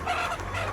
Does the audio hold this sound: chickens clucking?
yes